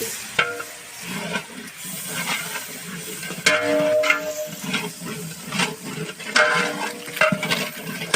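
Tomatoes sautéing in a large pot of mutton dum biryani, a steady low sizzle with scraping stir strokes and occasional metal clinks of a ladle against the pot, fairly close and without any talk.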